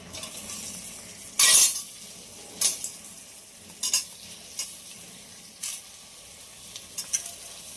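Tomato pieces fry in hot butter with a soft, low sizzle, broken by several sharp clinks and scrapes of a utensil against the pan, about six bursts spaced a second or so apart.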